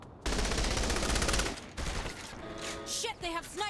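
Gunfire in the Saints Row: The Third video game, a dense, loud volley of rapid shots filling the first seconds, then scattered bursts and mechanical clatter.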